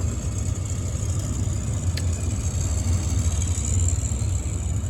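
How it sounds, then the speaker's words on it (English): A steady V8 car engine idles with a deep, even low rumble and a faint high whine, running continuously without pauses. "That sounds like it has a V8 engine in there."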